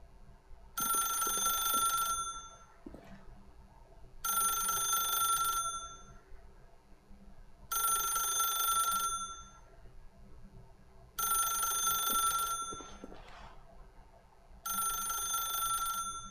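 A telephone rings in the video game The Rodders Parable, five long electronic bell bursts of about a second and a half each, separated by short pauses, loud and steady against a faint background hum.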